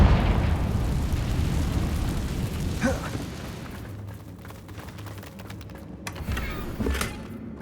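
A Confringo explosion spell cast in Hogwarts Legacy, with a loud rumbling blast that fades into a lingering low roar, then scattered crackles and small pops.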